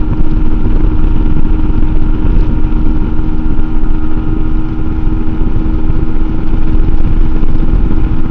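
MUTT 125 adventure motorcycle engine held near red line at about 65 mph on a straight road, a loud, constant high-revving drone with wind rush and no talk.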